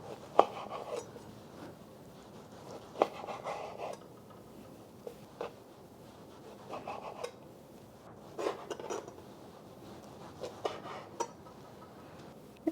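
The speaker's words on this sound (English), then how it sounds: "I'm going to cube it up into 1-inch cubes" Steak cut into one-inch cubes on a board with a knife, giving irregular sharp knocks and soft slicing scrapes spread out with pauses between them, close and moderately quiet, with no talking.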